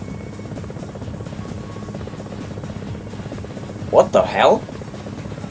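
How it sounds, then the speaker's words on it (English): An enemy helicopter in a video game demo gives off a steady, droning rotor buzz throughout, with a person briefly exclaiming near the end. "Enemy chopper."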